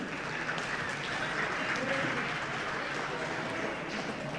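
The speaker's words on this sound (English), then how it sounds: "Can I have a big clap for them?" A business negotiation seminar audience applauds its volunteers with a steady, even wash of clapping throughout, moderately distant and without pauses.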